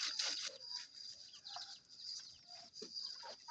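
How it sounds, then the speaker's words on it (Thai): A captive wild junglefowl clucks softly in a quiet setting, giving a few faint, scattered calls with high chirpy tones and a thin steady hiss behind. "นี่ไก่ป่าล้วนๆนี่"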